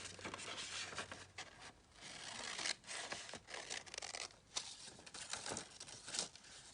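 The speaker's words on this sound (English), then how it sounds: "I am just cutting out, again, roughly with my scissors" Scissors cut paper for a junk journal cover in a series of quiet, close snips and rustles, irregular and faint with no talk.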